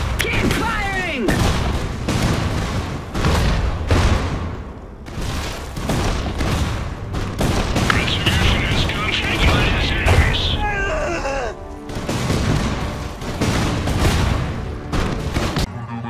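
A battle in the video game Iron Harvest rages with repeated loud gunshots and booming explosions, close and continuous, while voices shout over the fighting.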